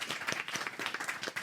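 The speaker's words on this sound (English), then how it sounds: "Can we have a round of applause for Maddie, because that was beautiful." A brief burst of audience applause with individual hand claps clearly audible within the patter, close and fairly quiet, without any talk.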